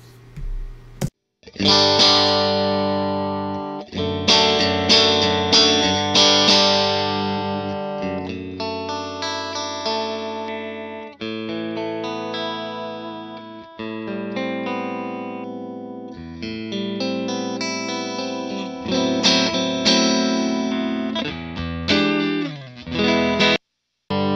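A clean electric guitar rings out through a Divided by 13 FTR 37 amp, playing steady chords and single notes with a brief pause near the start, loud and close, no voices.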